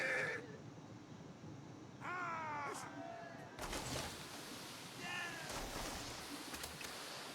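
Horses whinny twice amid a Total War 1212 medieval battle in a video game, each a short falling call over a constant din of battle noise and clashing.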